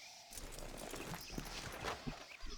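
Horse hooves clip-clop in a Western video game, a loose run of soft uneven hoofbeats over a steady background bed.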